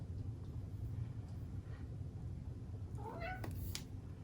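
A cat meows a few times near the end, short rising calls over a steady low rumble of background noise.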